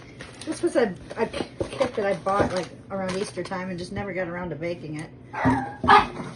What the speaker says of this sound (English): You will hear my dogs go crazy in the background here and there.